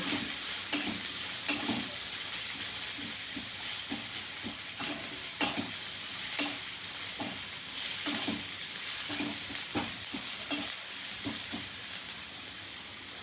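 Onions frying with turmeric and cumin powder in a pan, a continuous sizzle overlaid with regular scraping strokes of a spatula stirring through the mixture.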